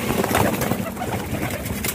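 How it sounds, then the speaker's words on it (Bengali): Giribaz high-flying pigeons coo softly while feeding, low murmuring calls repeating close by against faint background noise. "আসলে দেখেন এই গিরিবাজ কবুতরগুলো আমি আজকে খেতে দিয়েছি"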